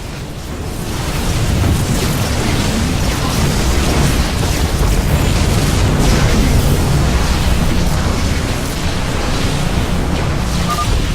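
Heavy explosions as the Tal'Darim mothership is destroyed in StarCraft 2: Legacy of the Void, a loud, continuous roar of booming blasts and rumbling debris that fills the whole stretch without letting up.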